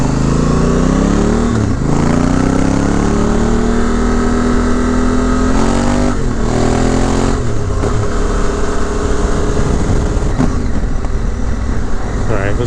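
Honda Africa Twin motorcycle fitted with a 44-tooth rear sprocket, riding on the road: a loud, close engine drone rising in pitch through the gears, with brief dips at each shift.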